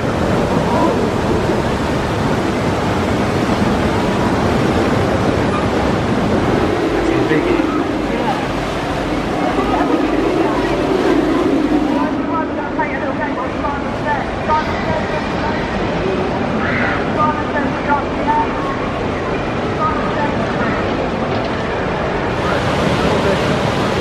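Rushing water on the Rumba River Rapids ride at Thorpe Park, a loud continuous broadband roar of churning water and spray lasting throughout, with voices mixed in.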